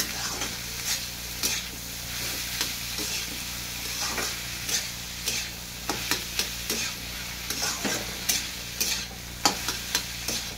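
Cauliflower florets sautéed with spices and onion in a pan, a steady sizzle under repeated scraping stir strokes, close and fairly loud, with no talking.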